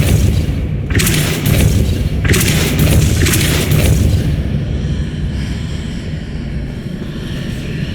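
Depulso spell cast in the Hogwarts Legacy video game, heard as a booming burst followed by a sweeping, whooshing rush with a second boom, loud and close before settling into a lower rumble.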